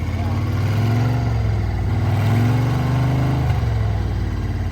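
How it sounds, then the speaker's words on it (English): A 6x6 off-road truck engine revs and drones loudly nearby during a vehicle recovery, rising and falling steadily, with a voice briefly heard over it. "Revving it up, and when it catches"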